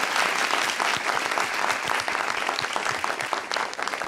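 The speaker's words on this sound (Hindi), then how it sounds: "तालियां।" A studio audience at a TV talk show bursts into loud, sustained applause, a dense wash of clapping hands that fills the whole stretch without pause.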